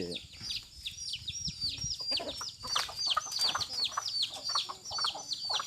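Newly hatched chickens cluck busily nearby, overlapping calls in a steady stream, with a voice occasionally speaking over them.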